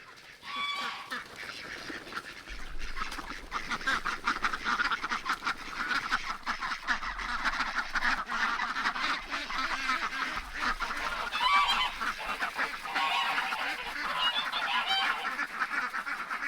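A farm flock of ducks and geese, including white ducks, honks and quacks continuously in an overlapping, busy chorus that stays fairly close and loud.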